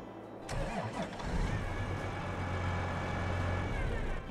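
A John Deere 9R tractor engine in a farming video game mod cranks and starts, then settles into a steady, moderately loud idle rumble heard from inside the cab.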